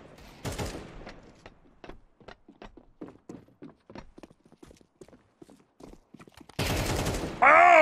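Video game gunfire: a sharp burst near the start, then scattered lighter clicks and footstep-like taps, ending in a loud, sustained volley of close shots with an excited voice shouting.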